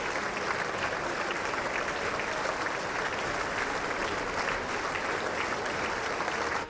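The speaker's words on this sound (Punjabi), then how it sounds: "ਅਮਰੀਕੀ ਸੰਸਦਾਂ ਨੇ ਖੜੇ ਹੋ ਕੇ ਤਾਲੀਆਂ ਵਜਾਈਆਂ" Members of the US Congress on their feet giving Prime Minister Narendra Modi a standing ovation, dense sustained applause from a large chamber crowd, loud and unbroken throughout.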